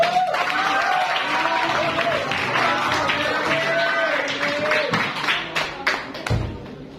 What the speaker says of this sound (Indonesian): Beri tepuk tangan tuh Jeremy.